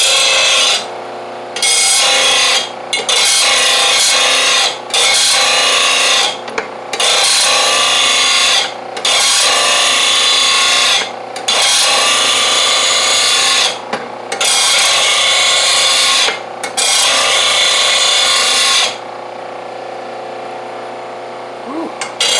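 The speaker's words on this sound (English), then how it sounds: "let's get over to the old blade grinder. I'm just going to sharpen the end of them." Bench blade grinder sharpening the ends of John Deere lawn tractor mower blades, a harsh rasping grind in repeated passes of a couple of seconds each with brief gaps, loud and close, then a quieter motor whir at the end.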